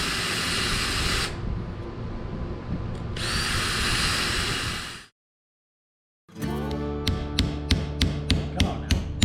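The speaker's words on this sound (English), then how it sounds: "not to damage it as I'm drilling" A power drill bores out rivets on a Corvair van wing window, loud close whirring in bursts that stop for a moment of silence, then a run of rhythmic rattling impacts.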